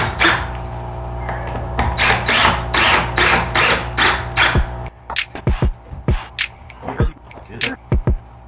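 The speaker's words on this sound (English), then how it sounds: "drill the first piece in" A drill drives screws into pieces of a wooden bonsai boot tray, close by, in repeated bursts of grinding and rasping, followed by shorter, sharper knocks and clatters of the wood being handled.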